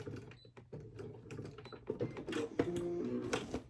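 A sewing machine stitching a giant tote bag made from dish drying mats, its needle running in a steady, fast mechanical patter close by, with no talk.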